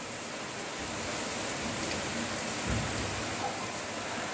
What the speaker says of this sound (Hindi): बारिश की आवाज़ सुनाई दे रही होगी।